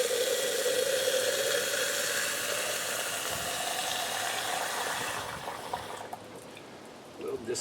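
Water gushes steadily into a high-capacity BRS GFO reactor for an aquarium, filling it for a rinse, then the flow stops and faint handling sounds follow.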